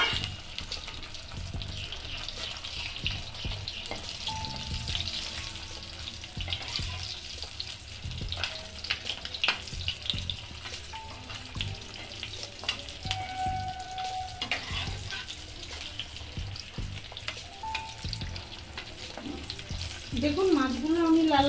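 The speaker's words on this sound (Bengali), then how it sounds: "কড়াইতে তেলটা দিয়ে দিয়েছি, আমি মাছগুলো একটু ভেজে নিচ্ছি।" Bata fish frying in oil in a wok, a continuous close sizzle and crackle with occasional utensil clinks and scrapes throughout.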